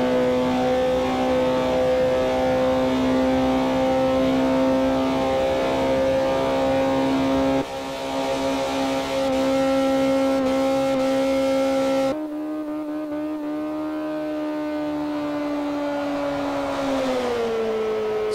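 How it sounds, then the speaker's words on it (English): Stock 1965 Alfa Romeo Giulia Sprint GTA in Forza Motorsport 4, lapping Twin Ring Motegi Superspeedway: a sustained high-revving engine drone holding steady pitch, shifting at two points, then the note sags and bends downward near the end, with no voices. "1965 Alfa Romeo Giulia Sprint GTS Treadle from the Forza Motorsport 4 at the Twin Wing Motegi Super Speedway"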